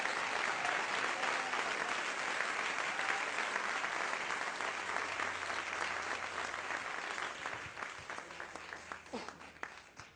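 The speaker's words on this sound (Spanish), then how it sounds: "Dale un aplauso al Señor." A church congregation applauds steadily and fairly loudly, the clapping thinning slightly toward the end with no speech.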